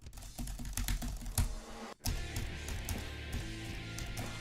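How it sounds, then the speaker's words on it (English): Fast, close typing on a computer keyboard fills the recording with rapid clattering keystrokes, broken by a brief pause before resuming at a steady pace, with no talking. "You guys are gonna get fucking keyboard ASMR."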